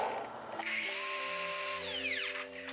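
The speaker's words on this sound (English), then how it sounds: "Then I'll cut a 45 in this direction to get our return piece." Power miter saw cutting a 45-degree angle on window casing: a loud, close motor whine spins up, holds steady through the cut, then winds down with a falling pitch.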